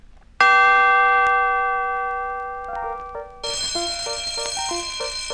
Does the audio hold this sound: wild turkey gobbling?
no